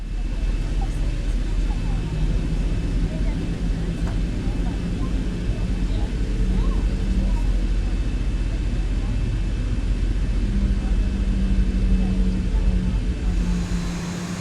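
Boeing 737-900 taxiing in the X-Plane 11 flight simulator, a steady low jet engine hum with a faint high whine that holds constant throughout, with no speech over it.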